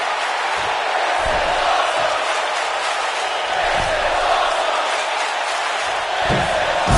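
A large wrestling arena crowd in WWE 2K19 roars continuously, a dense wash of cheering and shouting with occasional louder thumps, no clear voices standing out.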